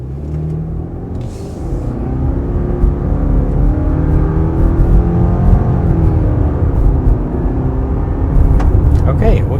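2026 Subaru Outback Premium pulling away from a stop, engine rumble and road noise building steadily heard from inside the cabin, with a person talking over it.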